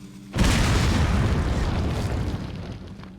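A bomb blast in the video game Resident Evil 4 erupts suddenly as a loud, booming explosion, followed by a long rumbling decay that fades over the next few seconds.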